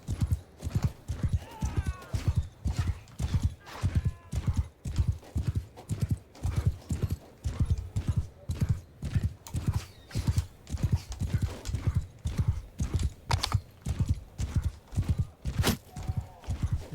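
Steady, rhythmic hoofbeats of a galloping horse in the video game Mount & Blade II: Bannerlord, loud and close, pounding evenly throughout with a brief whinny early on.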